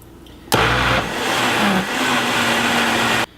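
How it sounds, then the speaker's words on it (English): A countertop blender whirs loudly, blending refried beans in the style of Taco Tico. It starts abruptly, holds a steady motor whine with a brief dip in pitch midway, and then cuts off sharply. "Be sure the lid is firmly on your blender"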